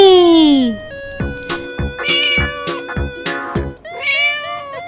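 A voice imitates a cat, giving a long drawn-out meow followed by a run of short, bright mewing calls, loud and close.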